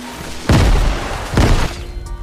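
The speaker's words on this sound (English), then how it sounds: "I'm throwing my nades." Two heavy grenade explosions in Fortnite boom about a second apart, each a loud, close, broadband thud with a short rumbling tail.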